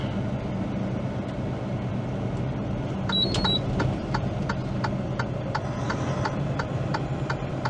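A truck's right-side sensor beeps steadily alongside the ticking right turn signal, a regular run of short tones over the low rumble of the idling engine, with no talking.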